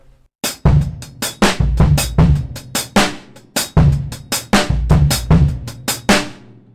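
Close drum kit groove with punchy bass drum hits and sharp snare and hi-hat strokes in a steady repeating rhythm.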